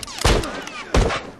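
Two sharp pistol shots in The Last of Us multiplayer, fired about three quarters of a second apart, loud and close with short ringing tails and no talking.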